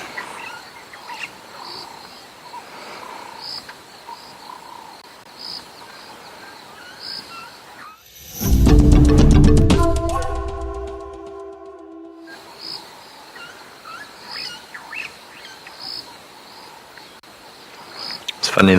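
Starlings call at sunset in African safari bush, a loud burst of tonal, chattering calls rising midway over a steady backdrop of faint, rhythmic insect-like chirps and soft background murmur.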